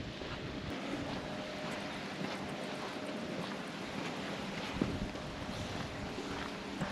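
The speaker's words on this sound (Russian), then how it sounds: "Да, сегодня с утра ветрено." Steady wind rushes and buffets against the microphone outdoors at a campsite on Crimea's Tarkhankut coast, a continuous broadband roar with no voices, only slight gust swells throughout.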